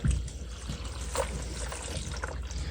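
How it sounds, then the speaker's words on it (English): Water pours into the filter of a new 75-gallon planted aquarium, a soft, steady trickle and splash running evenly throughout with no voices. "we want to pour water in it. Always got to pour water in your filter."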